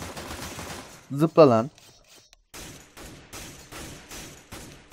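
Gunshots in CS:GO ring out as a run of regular, evenly spaced loud cracks through the second half. Someone speaks briefly just before them.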